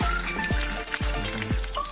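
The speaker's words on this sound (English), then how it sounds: "So it's not deep frying, it's shallow frying." Steady sizzling and crackling of wild boar meat shallow frying in a pan of oil, with a few soft scraping knocks from stirring.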